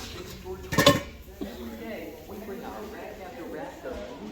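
A brief metallic clank of a heavy frying pan knocking against other cookware at a thrift store, followed by quiet handling noises while a person talks.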